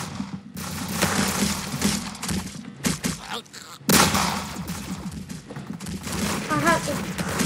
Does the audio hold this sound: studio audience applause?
no